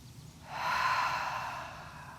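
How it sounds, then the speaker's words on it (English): One long, deep breath during a Pilates mat workout in a park, exhaled up close as a soft, airy sigh that swells and then slowly fades, with no talking. "2 more deep breaths."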